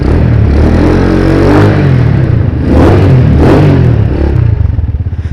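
A motorcycle engine revs hard and close at an outdoor basketball game in Hinobaan, a loud, continuous throaty roar that swells and eases a few times without letting up.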